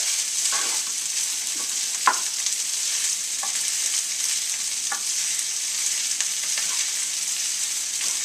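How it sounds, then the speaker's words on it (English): Bacon, garlic and egg fried rice sizzles steadily in a hot pan, a continuous bright hiss with occasional scrape and tap of the spatula as it's stirred, close and without talk. "the rice browns up a little bit just from getting fried like that"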